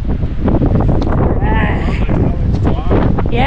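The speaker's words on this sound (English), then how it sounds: "And holy wind, it's so windy." Strong wind on a camping trip with dogs, buffeting the microphone in a loud, constant roar throughout, with a brief voice exclamation partway through.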